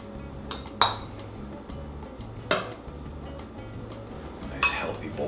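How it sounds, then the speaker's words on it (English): Bowls and cutlery clink as butternut squash and sweet potato soup is plated, with three sharp metallic clinks spread out over a low background murmur. "let's plate this soup du jour up and try it out"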